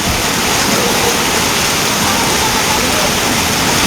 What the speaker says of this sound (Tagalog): wala nang ibang dadaanan yung tubig baha dyan na lang siya sa kalsada